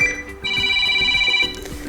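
A Samsung Galaxy A31 phone ringtone plays a bright electronic melody for about a second, clear and close.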